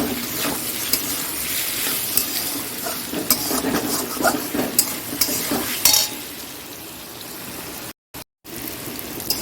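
Steady sizzling of food frying in a pan, with a utensil repeatedly stirring and scraping, clinking now and then, continuing without pause.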